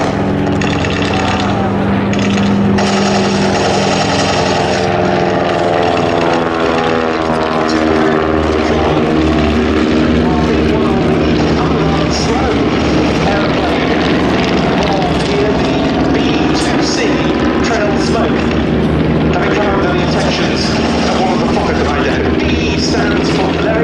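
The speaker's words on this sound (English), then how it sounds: "Triplane pursued by a Fokker DR-1 triplane, the Dreidecker." World War I triplanes, including a Fokker Dr.I Dreidecker, fly at the Duxford airshow. Their engines give a loud, steady, rough drone that rises and falls as they pass, with a voice faintly underneath.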